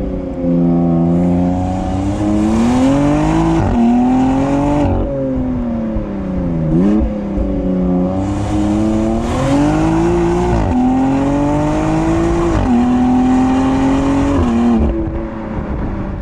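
A 2020 BMW X3 M with emissions gear on its engine, heard from inside, revving and accelerating through repeated rising pulls with brief dips between gear changes, loud and sustained throughout.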